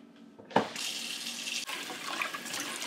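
Hot water runs steadily from a kitchen tap over a cast iron pan being rinsed, a continuous close splashing hiss that starts abruptly and carries on to the end.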